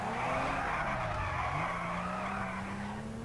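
A Tofaş car drifts in a modded GTA V, tires squealing in a steady, loud screech over a droning engine that shifts pitch midway, with no talking.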